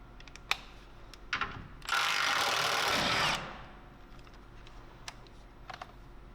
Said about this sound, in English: we'll remove the 14mm crossmember bolt at the rear